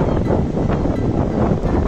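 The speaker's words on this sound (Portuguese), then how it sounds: "Mas não tá tendo sol, tá ventando." Wind blowing steadily across an open beach in Cornwall, England, a continuous broadband rush with gusty buffeting on the microphone and no voices.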